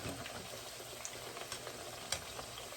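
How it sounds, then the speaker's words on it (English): Sliced eggplant pan-frying in oil for Sicilian-style fried eggplant makes a quiet, continuous crackling sizzle with a few sharper pops scattered through. "Beautiful, crispy pan-fried eggplant."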